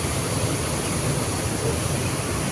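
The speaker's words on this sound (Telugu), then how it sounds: "ఇది కావేరి నది అనమాట." Kaveri river water flows in a continuous broadband rush, loud and steady, with some wind rumble on the microphone and no distinct voices.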